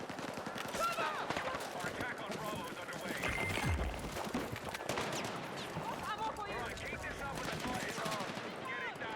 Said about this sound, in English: Being shot from behind.